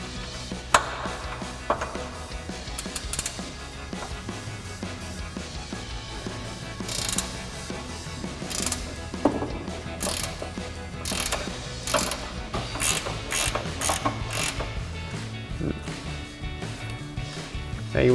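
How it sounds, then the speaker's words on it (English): A ratcheting wrench working a front control arm bolt on a 2005-2009 Mustang GT, with repeated close clicking ratchet bursts, clanks and metallic taps spread irregularly across the stretch, moderately loud with no talk. "So we'll grab our 18mm ratcheting wrench and a 21mm ratcheting wrench and get this front bolt off."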